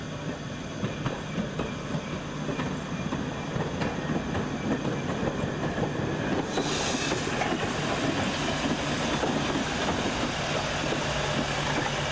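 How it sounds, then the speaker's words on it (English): A heritage railway train built at Crewe in 1958 rolls across a level crossing and into Darley Dale station on Peak Rail, a steady close rumble with rhythmic wheel clatter and a brief brighter screech partway through, no voices. "Here, the service rolls across the level crossing to pull into the station at Darley Dale"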